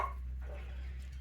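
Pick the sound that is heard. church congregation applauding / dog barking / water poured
dog barking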